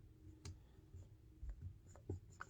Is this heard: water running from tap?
no